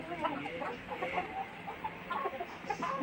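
Tiger breed chickens cluck steadily in a busy, overlapping chorus from several birds, close and moderately loud, with no voices over them.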